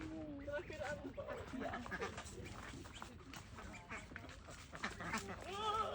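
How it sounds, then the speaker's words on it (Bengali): Ducks quack repeatedly on a farm in a Ninh Binh village, Vietnam, with several nasal calls overlapping at moderate distance against busy outdoor background noise. "এখানে কুকুর হাঁসকে খাওয়াচ্ছে, আর যেহেতু হাঁসগুলো সাঁতার কেটে কেটে চলে আসছে"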